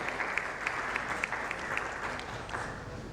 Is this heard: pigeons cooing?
no